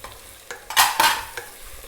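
Mint and coriander leaves sautéed in a pan for mutton gilli biryani, with a few sharp stirring scrapes and bursts of sizzle over a soft frying hiss, close and fairly loud.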